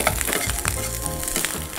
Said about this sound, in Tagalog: Tutusta lang natin ng konti itong rice natin.